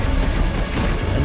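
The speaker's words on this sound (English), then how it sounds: "this is something like an airstrike" Airstrike explosions in the video game Darksiders Genesis make a dense, continuous barrage of loud blasts and rumbling booms that fills the whole moment without a break.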